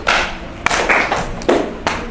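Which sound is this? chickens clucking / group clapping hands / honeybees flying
group clapping hands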